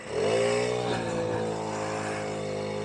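A Puch Maxi moped rides around a car park, its small two-stroke engine buzzing steadily and close by, with a slight rise in pitch as it pulls away and then holding an even drone.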